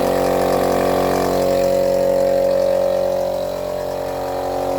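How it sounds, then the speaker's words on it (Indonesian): An air compressor runs steadily beside a vegetable garden, a loud, continuous mechanical drone with a constant hum that barely changes, close up with no voices. "ini mesin kompresor yang"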